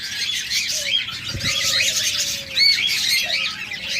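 Caged budgerigars and lovebirds chirp and squawk in a busy, high-pitched chatter, with a few whistled calls and a brief flutter of wings nearby.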